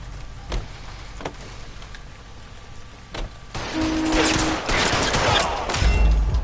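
Gunfire in the video game L.A. Noire: several sharp isolated pistol shots ring out, then a denser, louder burst of shooting mixed with engine and mechanical noise, with no one talking.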